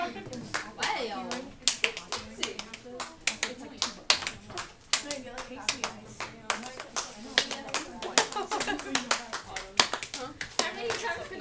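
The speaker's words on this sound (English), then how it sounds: "How many times can I clap between her one song?" Hand clapping from children in a classroom lesson, many quick sharp claps in an irregular rapid rhythm close by, with children's voices chattering underneath.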